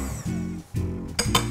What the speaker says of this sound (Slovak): A bielka si vyšľaháme.